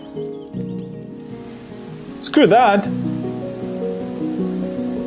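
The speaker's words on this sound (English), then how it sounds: "Oh wait, it's raining." Rain falls in the survival video game Unveil, a steady soft patter over layered game music, with a brief spoken remark in the middle.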